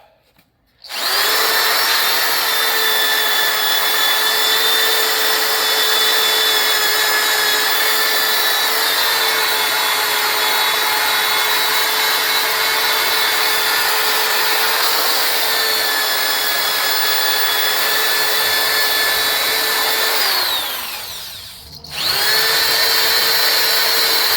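A drill spins a worn-out Scotch-Brite pad against a non-aluminum engine cylinder head during a service truck engine rebuild, giving a loud, steady high whine up close that briefly dips and resumes near the end.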